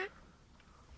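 Ducks quacking on a mixed-bag duck hunt in the Central Flyway, a short burst of calls near the start, then fainter scattered sounds over outdoor background noise.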